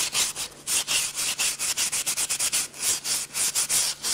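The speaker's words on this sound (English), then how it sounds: "we're going to scrub this egg." Quick rhythmic rubbing strokes as a turkey eggshell, soaked in vinegar, is scrubbed clean: close, fairly loud back-and-forth scouring with a steady tempo and short pauses, no speech.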